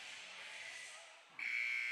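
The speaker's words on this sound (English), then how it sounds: "we got about 6 seconds before that buzzer buzzes." At the end of a high school basketball game, a loud, sustained electronic buzzer cuts in and drones steadily over the hiss of the crowd-filled gym.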